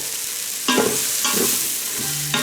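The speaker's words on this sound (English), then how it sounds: "add a little bit of salt into the onions so they can sweat out. It's still on the saute mode" Onions with salt sautéing in an Instant Pot on saute mode sizzle softly while a spoon stirs them in three scraping strokes, close and without speech.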